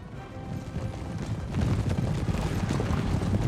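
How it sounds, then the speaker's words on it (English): Cavalry horses gallop in a Napoleon: Total War battle, a dense rapid clip-clop of many hooves that swells louder midway and keeps rolling, with no voices over it. "Yep, there's the cav."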